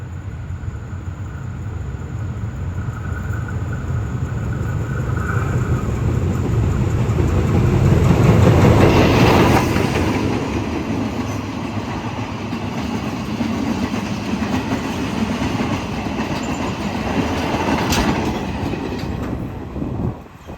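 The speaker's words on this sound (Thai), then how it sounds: "ขบวน701ก็มาแล้วกำลังเข้ามันลวนในทางที่ 1 ครับ" Freight train 701, an old vacuum-braked goods train on the Thai State Railway, rolls steadily into a station on track 1, a continuous loud rumble of heavy wagons with clickety-clack wheels swelling midway and staying close throughout.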